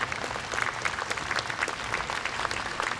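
Warm audience applause at a Fo Guang Shan Buddhist gathering, honoring the master: dense, steady clapping from many hands that fills the whole stretch without pause, close and full.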